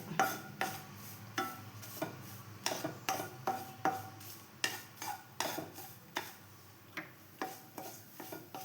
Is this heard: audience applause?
no